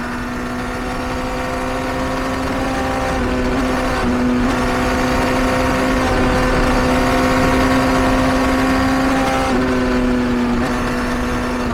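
A BMW S1000GT motorcycle engine hums steadily at cruising speed, its pitch rising and falling slightly as the bike rides on, loud and continuous throughout.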